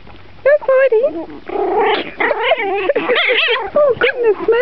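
Several puppies yipping, squealing and whimpering close by in high, wavering bursts, overlapping one another, while a person speaks over them.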